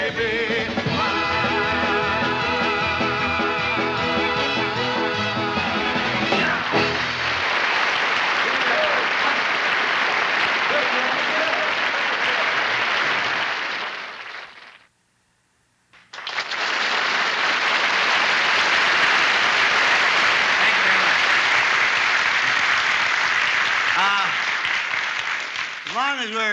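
Studio audience at a 1965 television variety special bursts into sustained, loud applause after a song, a dense wash of clapping that drops out briefly midway and then swells back just as full.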